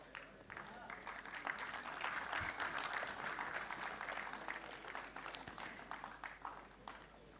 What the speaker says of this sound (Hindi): तो उनकी हौसला अफजाई करें तालियां बजाकर